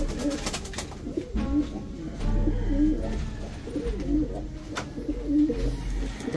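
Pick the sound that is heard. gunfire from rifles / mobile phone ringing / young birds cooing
young birds cooing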